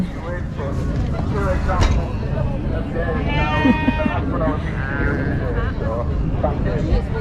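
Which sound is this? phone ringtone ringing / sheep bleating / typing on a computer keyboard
sheep bleating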